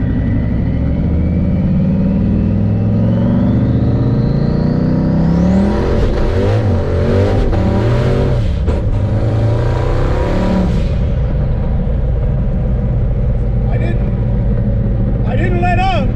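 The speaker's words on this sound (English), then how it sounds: "you will see how quick and how it sounds. All right, here we go, first gear." A car with a faceplated Tremec TKO/T56 manual transmission accelerates hard in first gear on a highway, the engine note rising steadily and loudly to a high rev peak before dropping, with someone talking over parts of it.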